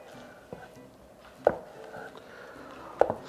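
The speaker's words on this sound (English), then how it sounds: "So we cut another one in slice of around 2 millimeters" Two or three crisp knife strokes on a board as a porcini mushroom is sliced about 2 mm thick, each a short tap spaced roughly a second and a half apart against a quiet kitchen background.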